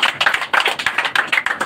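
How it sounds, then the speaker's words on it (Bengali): A small crowd claps in quick, uneven bursts at a pigeon racing tournament while a champion is garlanded. The applause is close and steady for a moment, with no talk over it. "সবাই হাত তালি জোরে।"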